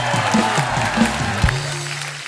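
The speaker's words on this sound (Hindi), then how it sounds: "जोरदार तालियां हो जाए इन सब स्टार्स के लिए।" Audience at a Bollywood star event applauds for arriving celebrities, a continuous wash of clapping with low rumbling tones and scattered sounds underneath.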